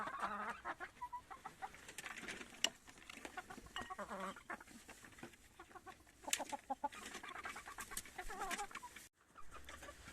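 Chickens of the Decable White breed clucking and murmuring while being fed yeast, a busy flock of overlapping clucks and short calls close by, fairly quiet, no speech.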